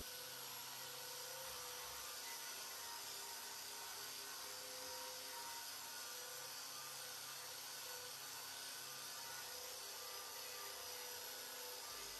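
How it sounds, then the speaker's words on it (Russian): A power sander with a coral abrasive disc grinds steadily on an old bathtub, a constant high whirring drone with an even, unbroken tone throughout and no talking. "Теперь приступим к коралловому диску."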